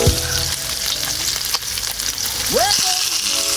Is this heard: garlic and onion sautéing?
yes